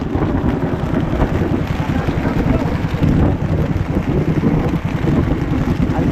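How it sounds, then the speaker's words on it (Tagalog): Heavy rain roars steadily as a low, rumbling wash of thunder rolls underneath, loud and close, with wind buffeting the microphone and voices talking faintly now and then. "Ang lakas ng kulog, ang tigat."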